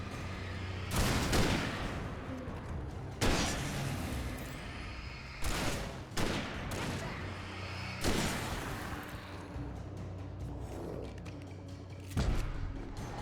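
Gunfire in Alan Wake Remastered, a series of heavy, booming shots spaced a second or two apart, each with a long rumbling tail, over a steady dark ambient drone.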